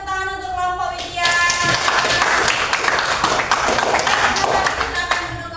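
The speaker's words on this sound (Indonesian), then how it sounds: "kasih tepuk tangan untuk kelompok Widya" A classroom group of students receives applause, a few scattered claps swelling into steady clapping from many hands that continues for several seconds, with a voice speaking at the start.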